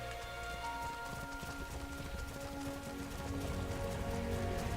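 Steady rain falls in a video game, a dense, even patter of drops on surfaces running without a break at moderate volume, with faint tonal game ambience underneath.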